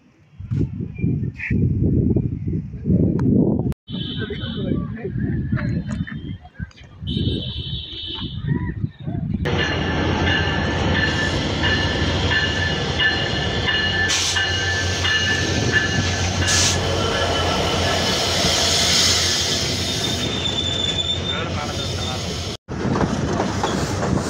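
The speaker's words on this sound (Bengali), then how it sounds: "আন্তনগর Titumir express Saidpur railway station থেকে ছেড়ে গেল" Titumir Express, an intercity train, pulls out of Saidpur railway station in bright afternoon sun: a loud horn blasts in short bursts over platform talk, then wheels clatter and grind steadily as the carriages roll past close by.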